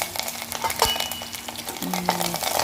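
Curry leaves frying in hot oil for a tempering in a pan, a soft steady sizzle with scattered crackles and light stirring scrapes, fairly quiet, with no talk.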